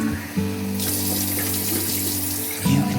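A tap sprays steadily into a sink, flushing out oil and soap, a loud continuous close-up water rush whose pitch shifts as the stream changes partway through, with no talking.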